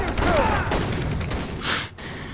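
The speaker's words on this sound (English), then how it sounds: "What the hell is this guy shooting at me?" Enemy gunfire in Far Cry 3, a loud, rumbling burst of shots that fills most of the moment, followed by a short sharper crack near the end.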